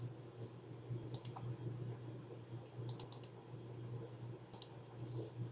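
Quiet, steady keyboard clatter as free text is typed into a note on a computer keyboard, with soft continuous keystrokes and a few sharper clicks over low background hum.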